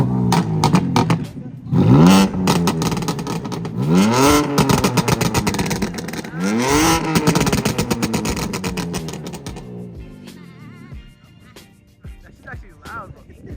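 A BMW G82 M4 with a resonator delete revs loudly on city streets, several aggressive rising and falling blips in quick succession close up, with brief talk mixed in before the engine settles at the end.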